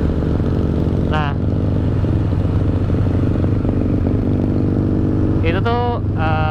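Engine of a custom motorcycle built from a 1986 Yamaha XS650, running steadily and loud up close, with a constant low rumble throughout and brief rising whines from other passing traffic.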